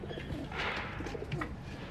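Pigeons cooing close by, soft throaty coos repeating over a low background rumble.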